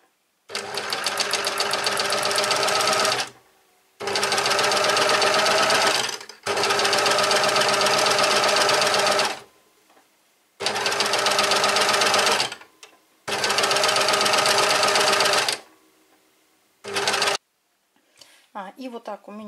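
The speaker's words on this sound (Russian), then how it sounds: "Я уже поменяла настройки натяжения нити и теперь буду шить роликовым швом." An overlock serger stitches a rolled hem after its thread tension has been adjusted. It runs in about six long, steady, rapid-chattering bursts with short silent gaps, close and loud.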